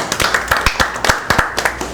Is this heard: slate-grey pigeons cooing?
no